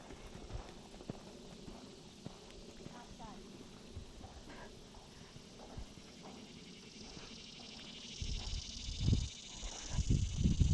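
Hooves of horses walking in an indoor riding arena during a lesson, soft irregular clip-clop steps heard close, with rustling and louder thumps near the end.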